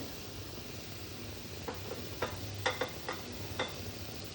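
Sweet modak filling stirred in a pan, a soft low sizzle under a few distinct scraping knocks of the spoon near the middle and end, close but quiet.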